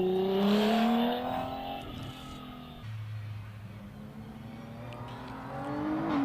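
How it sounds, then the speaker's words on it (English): OMS 28 hillclimb race car with a 3-litre V6 Jaguar engine accelerates up the course, its engine note rising and falling through the gears, first close and loud and then fading before climbing again. "Heading up towards Orchard at the moment, Paul Crute in the OMS 28, running the V6 3-litre Jaguar"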